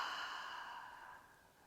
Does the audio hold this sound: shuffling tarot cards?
no